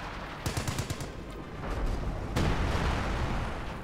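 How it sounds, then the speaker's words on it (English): Howitzer artillery firing in the Company of Heroes 2 video game during a 1v1 battle, a rapid string of sharp reports followed by heavier booming blasts, dense and continuous over a rumbling battlefield background. "And again, the howitzer opens up."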